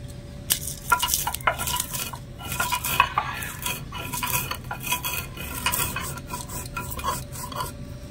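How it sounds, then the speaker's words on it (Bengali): Fried panch phoron seeds and dried red chilies being crushed with repeated clinks and scrapes of a utensil, close and fairly loud, with no talking. "এবারে এই ভাজা 5 ফোড়ন আর এই শুকনো লঙ্কাটা একটু গুঁড়ো করে নেব।"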